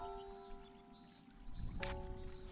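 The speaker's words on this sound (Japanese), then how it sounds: "湧き出た水は昔からある地下水路を通じて水源の滝として流れ落ちている。" Water spilling down a waterfall fed from an underground channel in Atelier Ryza, a steady soft rushing wash heard faintly beneath sustained musical tones, growing fuller toward the end.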